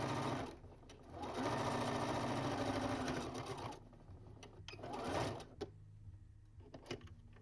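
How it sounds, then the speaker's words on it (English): A sewing machine runs close by, stitching across a channel in a cloth pet bandana for a dog or cat, with a steady whirring run followed by shorter stop-start bursts for back stitching. "Sew across this newly created channel, back stitching at the beginning and the end."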